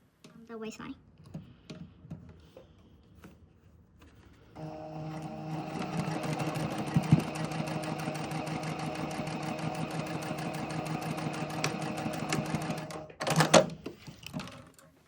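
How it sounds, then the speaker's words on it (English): A sewing machine runs steadily for several seconds, stitching a 1 cm waistband seam with right sides together on a garment, with faint handling noises before and after and a brief louder clunk near the end. "I'm going to sew the same thing on the other side."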